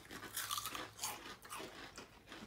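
Crunching and chewing on Blue Heat Takis rolled tortilla chips close to the mic, a steady run of crisp, brittle bites and grinding crunches with no talking.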